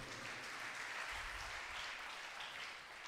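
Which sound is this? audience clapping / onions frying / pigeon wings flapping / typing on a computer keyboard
audience clapping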